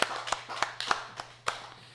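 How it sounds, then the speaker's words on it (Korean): Members of a church congregation clap during a Sunday worship service, a sparse handful of distinct claps about every third of a second, moderately loud over a low steady hum. "하나님께 영광의 박수 돌려드리겠습니다."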